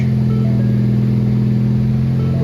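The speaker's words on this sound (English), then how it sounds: "And first start up with the new blow-off valve." A car engine idles steadily just after its first start-up since a Turbosmart blow-off valve was fitted, a loud, constant low rumble running alone throughout.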